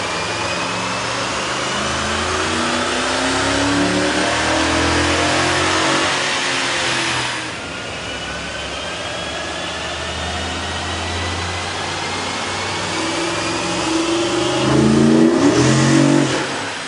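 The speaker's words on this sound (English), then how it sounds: "we ran the vehicle on the dyno to test the sound comparison versus the stock intake" Car with a K&N 63-9032-1 cold air intake on a dyno, its engine revving hard through rising pulls, a brief drop near seven seconds, then climbing again with intake roar, loud and close.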